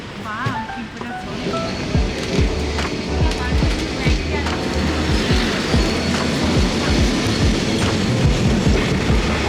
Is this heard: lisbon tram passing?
yes